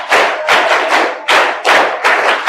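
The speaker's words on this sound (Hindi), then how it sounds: "लेकिन एक बार तालियां सब लोग बजाएंगे।" A hall full of NCC cadets claps in unison, producing about five loud, booming rhythmic bursts roughly half a second apart, each trailing off before the next.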